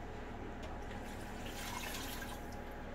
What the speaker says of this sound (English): We're going to retain the rabbit broth. I'm going to add it to my pot